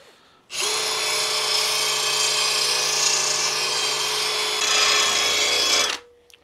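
A drill spins a sharpening stone against a lawn mower blade, giving a loud, steady grinding whir that runs unbroken for about five seconds, brightens slightly toward the end, then cuts off abruptly.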